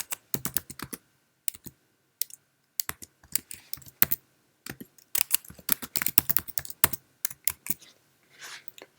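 Keys on a Mac keyboard clicking in short irregular bursts of crisp taps with pauses between, close and clear in a quiet room, as keyboard shortcuts are typed.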